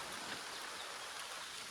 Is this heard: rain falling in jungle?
yes